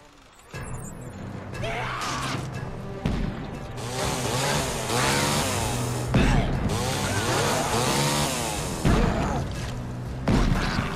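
A chainsaw in the video game Evil Dead Regeneration revs and grinds loudly and continuously through the fight, mixed with shotgun blasts and impact crashes.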